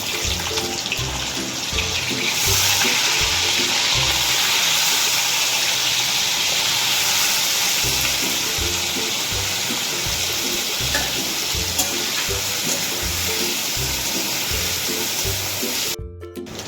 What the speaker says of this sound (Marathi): आपण आता पनीर तळून घेऊया।